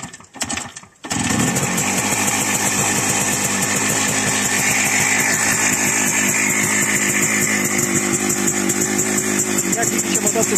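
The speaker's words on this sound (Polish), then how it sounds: "Jak widzicie, motocykl chodzi, ale słychać te zwolnienie w pierścieni." A 1976 WSK 175 Kobuz two-stroke motorcycle engine, worn piston rings, starts after a brief rustle and then idles loudly and steadily close by with a rapid, rattly buzzing beat.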